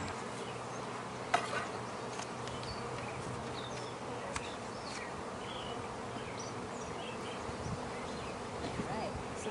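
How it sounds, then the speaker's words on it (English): Dense, continuous buzzing of many honeybees close by at a hive, a steady swarming drone with no pauses. "Bees are still alive. Bees are still there."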